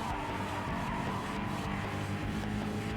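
Car tires skid and squeal under hard braking in the Gran Turismo Sport racing game, over a steady, loud engine drone that continues without a break for the whole stretch.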